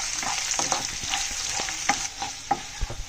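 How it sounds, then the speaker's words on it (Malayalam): Chopped ginger, green chili and garlic are stirred in a hot pan, giving a close, continuous sizzle punctuated by quick, repeated spatula clicks and scrapes. "ഇഞ്ചി കൊത്തി അരിഞ്ഞത്, പച്ചമുളക്, വെളുത്തുള്ളി നന്നായിട്ട് ഇളക്കുക"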